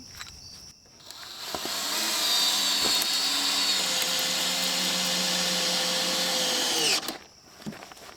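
A power drill runs continuously with a bit for about six seconds during a mini mobile home renovation repairing rot, its steady whine loud and close, starting and stopping abruptly with handling knocks around it.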